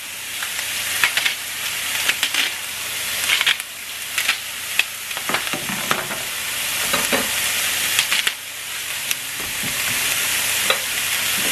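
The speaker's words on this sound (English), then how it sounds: "And I'm just going to saute these up for about 3 or 4 minutes." Taco soup ingredients sauté in a pan over medium heat, giving a loud continuous sizzle with scattered crackles and stirring scrapes throughout, close up and without speech.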